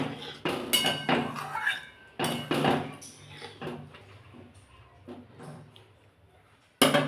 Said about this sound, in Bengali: এবার আমি নাড়িয়ে দেবো এটা